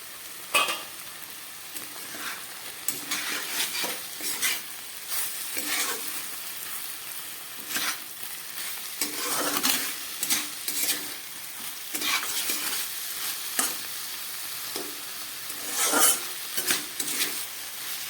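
Leafy bathua greens cooking in a pan on low gas, a continuous gentle sizzle with frequent spatula stirs and scrapes against the pan, close and moderately loud, with no voices.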